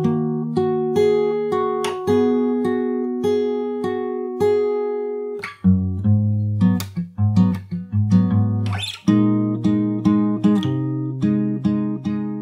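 Fingerstyle acoustic guitar plays the C part of an emotional chord progression, with steady plucked arpeggios, then a busier passage of low bass notes and strums before settling into ringing chords, close and clear with no voices.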